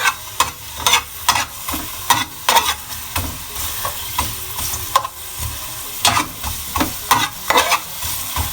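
Onions for kare-kare sauté in a hot pan, a loud continuous sizzle punctuated by regular scraping stirs about once a second, close up and without speech.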